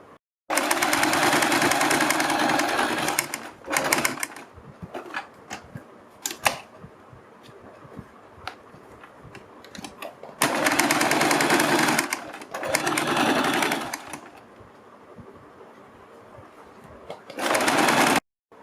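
An electric sewing machine stitches kurti neck fabric in three rapid, loud mechanical bursts, each lasting a few seconds. Quieter gaps between them carry the handling of cloth and a few clicks.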